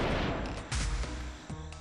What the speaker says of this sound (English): shoot myself out of the cannon?